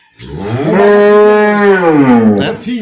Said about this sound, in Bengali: এই গরুটা ভালো জাতের গরু